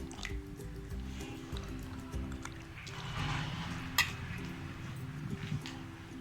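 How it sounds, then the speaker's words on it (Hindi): A cup of yogurt goes into a chicken tikka biryani marinade with close, soft, wet squishing and dripping, followed by a single brief sharp tap. "ये हमारे पास जो दही है 1 प्याली, ये भी हम इसके अंदर डाल रहे हैं।"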